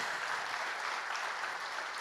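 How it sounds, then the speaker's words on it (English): Quiet, steady applause from a seated audience at a campus talk, honoring a guest speaker; an even wash of clapping sustained throughout with no distinct individual claps standing out. "I want to give him another round of applause."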